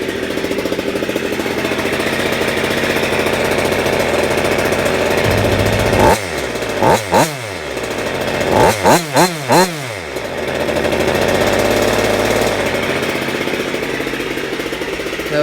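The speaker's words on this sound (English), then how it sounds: "Don't want to rev it up too much. Like I said, still breaking in the engine." A G290RC GoPed Super Xped with a Sikk Toys pipe and no silencer idles loudly at close range, then revs sharply in several quick bursts before settling back to a raspy steady idle.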